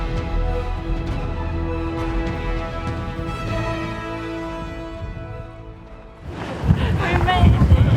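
Wind buffets the microphone on a mountain summit in Korea during a hike, rising into loud, rough gusts over the last couple of seconds after a steadier tonal stretch.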